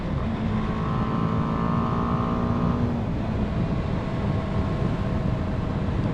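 A 2020 BMW G 310 R motorcycle cruises at about 55 mph, its engine droning steadily under heavy wind rush, with a held tone that drops away partway through; no talk.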